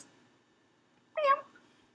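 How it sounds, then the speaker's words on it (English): A single short cat meow sounds once near the middle, fairly clear and close against a quiet background, with no talking. "Does it sound like a sentient cat?"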